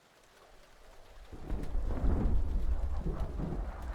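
Thunderstorm in the Metal Gear Solid 4 video game: steady rain swells into a loud, deep rumble of thunder that builds and rolls on, with no voices over it.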